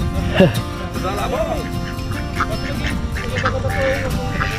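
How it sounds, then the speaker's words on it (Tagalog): Ducks quack repeatedly at close range on a Philippine farm, over a constant background hum, with people talking intermittently. "Ayan po yung mga itik."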